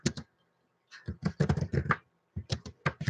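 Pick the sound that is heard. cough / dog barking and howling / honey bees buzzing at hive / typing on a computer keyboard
typing on a computer keyboard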